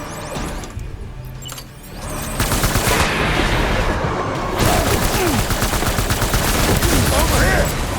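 Gunfire rings out in Death Stranding Director's Cut, starting with a few sparse shots and then breaking into loud, rapid bursts that continue to the end, with a voice shouting partway through.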